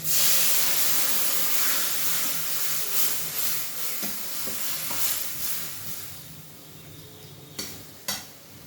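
Tomato puree and red chili powder sizzle in a hot pan for a Kashmiri aloo matar paneer, a loud steady hiss that gradually softens, with a couple of sharp clicks of a utensil near the end.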